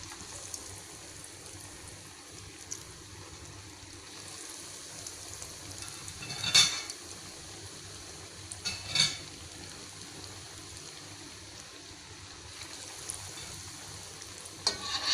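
Batter fries in hot oil in a pan with a quiet, continuous sizzle, broken by a couple of louder crackling bursts and light stirring noises, fairly faint and without talking.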